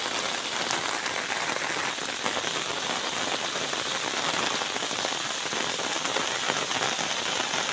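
Heavy, steady typhoon rain pours down close by on Burias Island, Philippines, a dense unbroken hiss with no voices or pauses.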